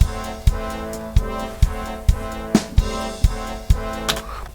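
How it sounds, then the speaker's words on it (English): Orchestral brass from a SampleTank virtual instrument in Cubase plays sustained chords, with regular accented attacks roughly every half second, loud and clear with no voices. "some orchestra brass sounds."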